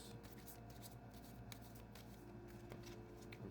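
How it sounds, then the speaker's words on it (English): A big tarot deck being shuffled by hand, with a soft, continuous riffling and sliding of cards up close at low volume and no talking. "I'm shuffling the cards for you."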